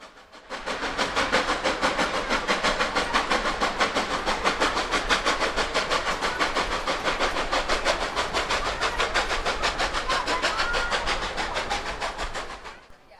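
A Durango and Silverton narrow gauge railroad train runs past with a loud, steady rhythmic chuffing and hiss that swells in and fades out over about thirteen seconds.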